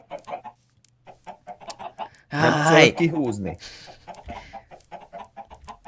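Chickens cluck on a Minecraft chicken farm, with a burst of loud, dense clucking in the middle as a voice speaks over and around the short, repeated game clucks.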